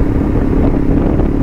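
KTM Duke 250 BS6 motorcycle with an open SC Project exhaust being ridden, a steady loud engine drone mixed with wind rush and no breaks.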